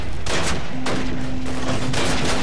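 Gunfire in the Call of Duty PC video game: dense, loud, continuous bursts of shots and automatic fire, with no speech over the barrage.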